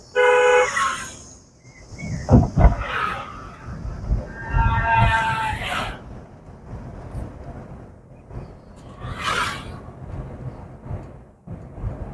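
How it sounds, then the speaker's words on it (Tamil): Several car horn honks sound over steady traffic rumble during a driving lesson, a long blast at the start and shorter toots later, close and fairly loud. "ஹார்ன் அடிச்சிருங்க."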